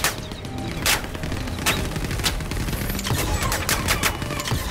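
Gunfire in the Star Citizen Star Marine shooter, fired through a barrier: several sharp reports spaced irregularly over steady combat ambience, fairly close and loud.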